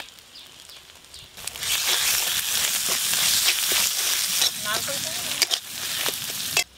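Ginger and green chili paste hits hot oil and bursts into a loud, close sizzle that keeps crackling steadily for several seconds, with a faint voice briefly in the background.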